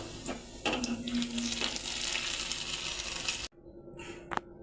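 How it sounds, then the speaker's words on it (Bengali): Radish fritters fry in hot oil with a steady close sizzle and a few light metallic clinks, cutting off abruptly partway through before a faint tap and quiet hiss. "বড়াটা অল্প আছে ভেজে নেব, তাহলে মূলা সিদ্ধ হবে আর বড়া মুসমুস হবে।"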